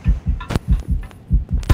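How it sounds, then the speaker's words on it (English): Steady, close, booming player heartbeat in the horror video game Bewildered Chapter 2, low thumping double beats repeating rapidly and evenly with a faint hum beneath. "my player's heartbeat keeps going off and on"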